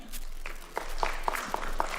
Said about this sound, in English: Let's welcome her with a hand of applause.